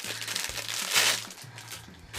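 Plastic packaging from an online shopping order crinkles and rustles as it is handled during unpacking, a steady close-up rustle that swells in the middle, with a low hum running underneath.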